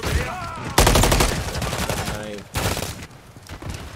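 A video game firefight with dense automatic gunfire and rapid bursts in close succession, loud and near, with shouted voices mixed in.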